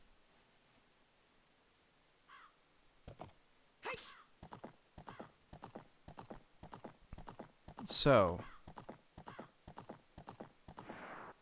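Horse hooves clip-clop in a steady rhythm as a rider travels through Gerudo Valley toward Gerudo Fortress in the video game Zelda: Ocarina of Time, with a brief whinny mid-way and a voice speaking over the hoofbeats.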